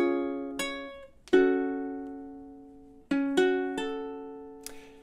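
A ukulele plays measures 7 and 8 of a song, a series of bright strummed chords, each ringing and decaying before the next, with irregular spacing and a final soft strum, played solo and close.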